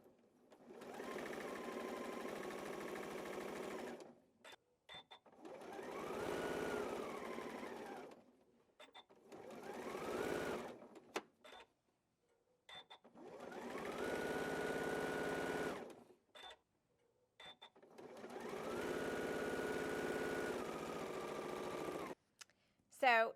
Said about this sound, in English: we are going to sew a straight line all the way down here